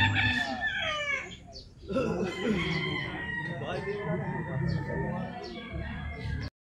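Gamecock roosters crow repeatedly at a game farm in Tanauan, Batangas, several nearby crows overlapping, with someone talking between them.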